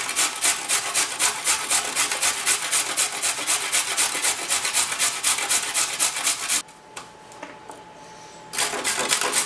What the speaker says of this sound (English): I'm going to grate some carrot